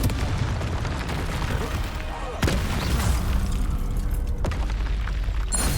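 Blasting spell explosions in the Hogwarts Legacy video game, a dense run of loud booms and bursts with sharp hits around two and a half and four and a half seconds over constant game noise.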